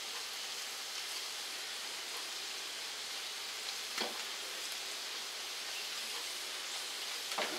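Meat fries quietly in a pan for a curry, giving a soft, even sizzling hiss with a few faint stirring clicks and no talking.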